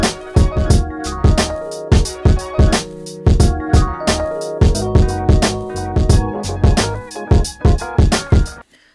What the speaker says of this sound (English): So drums and the sample sound like this.